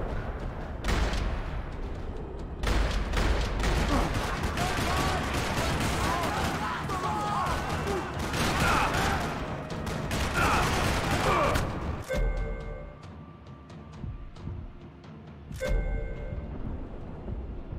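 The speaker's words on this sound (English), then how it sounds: "Another parking lot rattling with gunfire." Video game Max Payne 3 shootout in a parking lot: dense, sustained rattling gunfire with rapid overlapping shots, loud and continuous, easing into a few scattered bursts near the end, with a player's voice talking over it.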